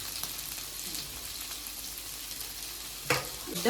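Onion and tomato fry in oil for a pudina chicken dish, giving a steady, low-level sizzle throughout, broken near the end by a couple of louder stirring clatters.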